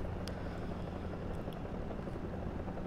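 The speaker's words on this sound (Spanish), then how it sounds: "Aquí tenemos helicópteros" Helicopters in the combat game War Thunder, a steady, dense rotor drone that stays even and moderately loud throughout, with a few faint clicks on top.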